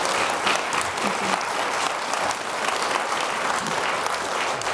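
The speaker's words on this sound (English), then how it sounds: "I'm going to ask ask everyone, obviously, to give another round of applause to Marc." An audience at a lecture event gives a long, dense round of applause that stays steady and loud throughout.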